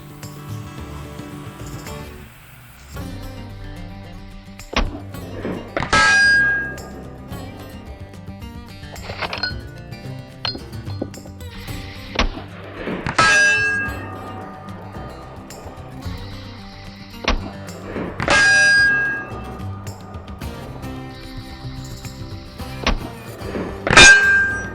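A Henry Side Gate All Weather rifle in .45 Colt fires jacketed soft-point rounds outdoors, about four sharp loud shots spaced a few seconds apart, each with a ringing metallic tail, with lever-action clatter between them.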